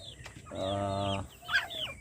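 Around thirty chickens shut in a locked cage, one giving a close drawn-out cluck followed by softer clucks and a brief squawk, no voices heard.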